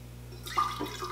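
Jim Beam Ghost white whiskey pours from a Contigo thermos in a brief, close liquid trickle of about half a second over a steady low hum.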